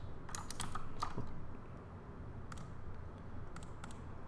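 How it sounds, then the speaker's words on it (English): A clicky mechanical keyboard is typed on in quick clusters of sharp key clicks, separated by pauses, close but soft over a low background hiss, with no talking. "my keyboard's pretty clicky. It's a mechanical keyboard for that extra gaming skill."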